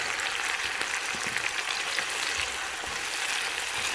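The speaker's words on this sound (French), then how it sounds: "Mon huile chaude, j'ai rajouté mon oignon et ma tomate" Onion and tomato frying in hot oil, a steady close sizzle and crackle with occasional small pops, continuous and even, no voices.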